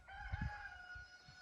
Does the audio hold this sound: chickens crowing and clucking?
yes